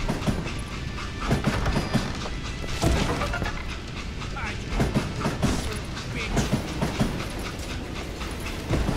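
A train running on rails in the Western video game Call of Juarez Gunslinger, with a steady rumbling roll and rhythmic clatter of wheels, recurring clanks and bursts throughout, fairly loud and close.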